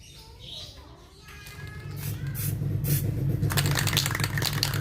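Paint sprays onto an old Suzuki Baleno 1.5 engine taped up with masking tape, a loud continuous aerosol hiss building after a quieter start and holding steady to the end.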